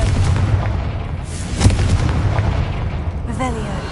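The Confringo explosive spell goes off in Hogwarts Legacy, a booming burst amid rumbling combat noise, with a short rising magical tone near the end.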